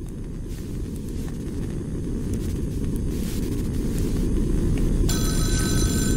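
A loud phone rings in the horror video game The Doll Shop, a harsh steady ringing that holds throughout over a rumbling, noisy ambience that builds slightly toward the end.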